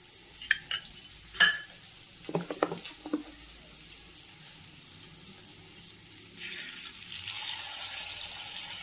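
Ghee in a hot kadai, set up for sweet potato paniyaram: a few sharp metallic clinks and taps early on, then a quiet hiss that swells into a brighter, steadier sizzle near the end, no talk.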